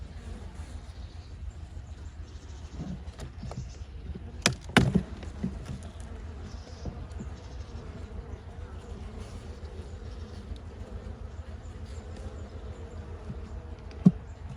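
Honeybees in an open hive during a colony inspection, a steady low buzzing hum throughout with a few brief clicks and knocks of frames, close and moderate in level, no talk.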